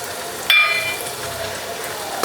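Ten cut garlic cloves hit hot oil in a pan for a coconut milk fish curry, bursting into a sharp sizzle at about the half-second mark that settles into a steady frying hiss, with a second small flare at the end.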